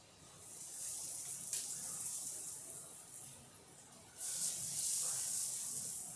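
Maple bacon pancakes sizzle in butter on a hot griddle, a steady bright hiss that swells louder toward the end, with no talking.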